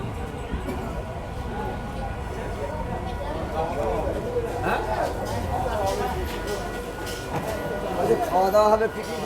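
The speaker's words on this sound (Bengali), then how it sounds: "তো আমাদের ট্রেন কিন্তু ফাইনালি বাতনা কৃত্তিবাস স্টেশনে" An ICF-coach local train in Bengal pulls into Batna Krittibas station, with a steady low rumble of wheels and carriage noise that rises toward the end. People talk over it throughout.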